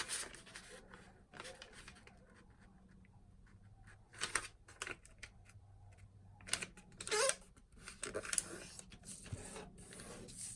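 Paper folded for an origami crane, faint close crinkles, creases and rustles in scattered bursts over a quiet room background.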